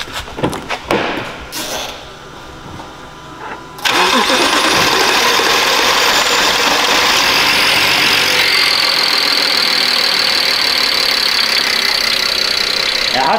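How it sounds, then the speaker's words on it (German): A BMW N53 direct-injection engine gets its first start after an injector replacement: some faint handling noise, a few seconds of cranking, then it catches and settles into a loud, steady idle, close by. "jetzt kommt der erste Start. Wie gesagt, der wird ein bisschen länger drehen, weil er erstmal Kraftstoff fördern muss."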